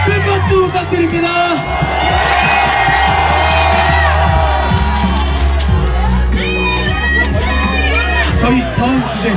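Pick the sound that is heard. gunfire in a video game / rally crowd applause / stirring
rally crowd applause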